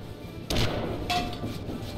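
A World of Tanks shell striking a hillside lands as a sharp thud in a tank video game, followed by a second softer impact under a steady engine rumble.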